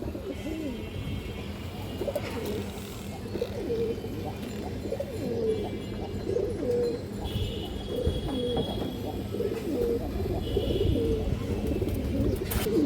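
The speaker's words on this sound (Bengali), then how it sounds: "এই যে দেখেন কবুতরটা" Pigeons cooing at a pigeon seller's stall, repeated soft low coos in a steady rhythm across the whole stretch, close by, with faint chirps and background noise.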